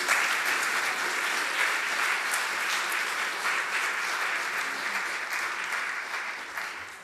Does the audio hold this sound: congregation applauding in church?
yes